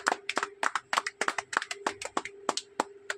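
An audience at a ceremony in Odisha breaks into scattered, uneven clapping, sharp close claps arriving in irregular bursts over a faint steady hum.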